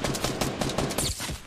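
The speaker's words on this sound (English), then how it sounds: "I'm getting shot in the side" Rapid gunfire from the video game Fortnite crackles in dense repeated bursts, loud and close, filling the short stretch with a steady rattling fusillade.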